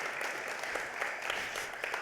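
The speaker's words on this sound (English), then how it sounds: "give her a big round of applause" Audience applause at the Stellafane amateur astronomy convention, a steady dense patter of many hands clapping throughout, moderately distant with no talk over it.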